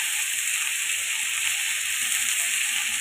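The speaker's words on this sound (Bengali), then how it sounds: "এখন পেঁয়াজ মরিচের সঙ্গে আমি আলুটাকে একটু ফ্রাই করে নিব।" Potatoes frying with onion and chili in a pan, a steady, even sizzle of oil that stays constant and moderately loud throughout with no talking.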